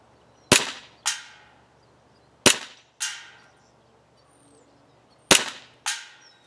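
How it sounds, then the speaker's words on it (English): An ICS BLE Alpha gas blowback airsoft pistol fires three pairs of sharp, close shots, each crack trailing into a brief metallic slide rattle, with short pauses between pairs and no talking. "let's put some rounds through this thing and see how it shoots"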